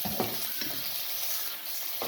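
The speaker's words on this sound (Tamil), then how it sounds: "இந்த வெங்காயம் வந்து நல்லா வதக்கணும்" Onions sauté in a pan with a soft, steady sizzle, quite faint, broken by a few brief stirring scrapes.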